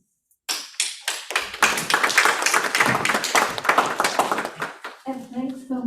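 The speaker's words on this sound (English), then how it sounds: "I'd like to offer a round of applause for these folks" Applause from the audience at a city council workshop, a burst of scattered clapping that starts suddenly and runs steady for several seconds before a voice begins speaking over it.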